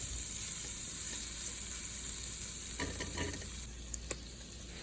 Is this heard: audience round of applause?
no